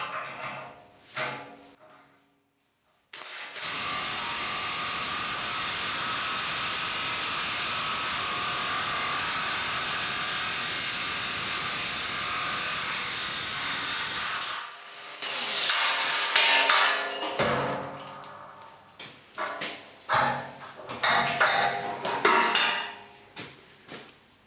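A Milwaukee HD18 HIW 18V impact wrench hammers away at a thread-locked bolt in one long, loud, continuous burst, then a few shorter uneven bursts and clunks follow.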